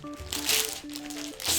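Plastic wrapping around the edges of a new keyboard crinkles and rustles during unboxing, a short close burst of crackly handling noise with no talking.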